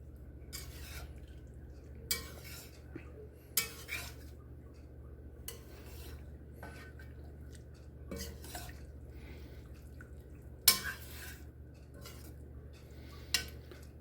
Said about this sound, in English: So we'll go ahead and stir that in, get it nice and mixed.